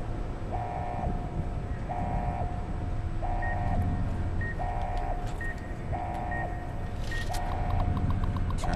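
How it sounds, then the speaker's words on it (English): Repeating electronic alarm beeps sound at a steady rhythm of about one every 1.4 seconds in Fallout New Vegas DLC, with a constant low rumbling hum underneath and no talking. "Turn off the alarms"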